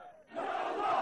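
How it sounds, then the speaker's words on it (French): An angry street crowd in Turkey at night during the July 2016 coup attempt shouts and roars while attacking the putschists' truck, a brief swelling wall of massed voices at moderate distance. "La foule en colère s'en prend au camion des putschistes."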